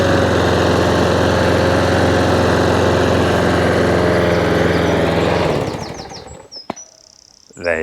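A 48 lawn mower engine idles steadily and loudly with an even drone, then cuts out and fades, leaving a few faint knocks and near silence.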